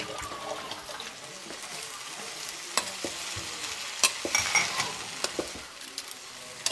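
Sardines with a little water frying in a pan over a wood fire, a steady close sizzle with intermittent stirring clatter and sharp pops throughout.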